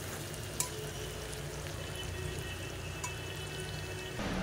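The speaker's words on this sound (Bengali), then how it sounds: "পেঁয়াজটা হচ্ছে ব্রাউন কালার করে আমি ভেজে নিচ্ছি।" Onions frying until brown in a home kitchen pan, a low continuous sizzle close by with a couple of faint clinks, no one talking.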